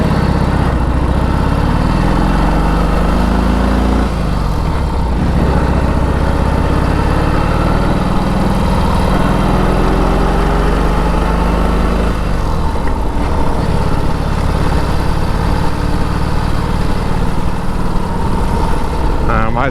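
A 1946 Indian Chief motorcycle ridden along back roads, its engine a loud, continuous close-up drone whose pitch rises and falls through gear changes, with rushing wind noise throughout.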